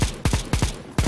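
An M249 machine gun firing in CS:GO, about five heavy shots in quick, steady succession, close, loud and booming, with no talk over them.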